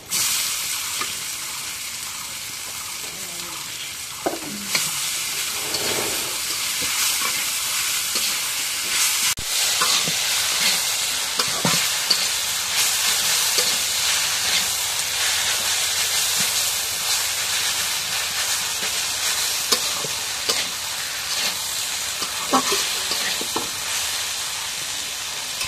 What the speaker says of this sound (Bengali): এখন মরিচ দিয়ে ভাজা হয়ে গেছে, শাকগুলো দিয়ে দিই।